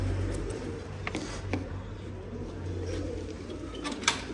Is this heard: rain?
no